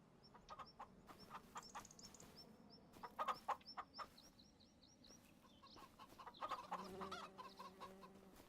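Chickens and a rooster on a Missouri farm cluck and chatter in scattered, soft bursts, with occasional higher calls and a quiet, distant rural background.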